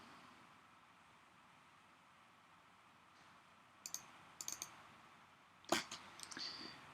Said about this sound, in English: If we double click that one,